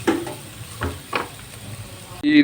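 Vegetables for white pasta fry in a pan with a soft sizzle, punctuated by a few stirring scrapes, ending in a sudden louder burst.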